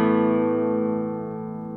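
A single chord strummed on a classical guitar rings out with long, even sustain, close and clear, fading gently over nearly two seconds.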